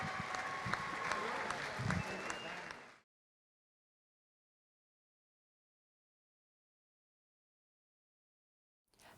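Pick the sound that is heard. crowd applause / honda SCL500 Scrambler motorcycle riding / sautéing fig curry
crowd applause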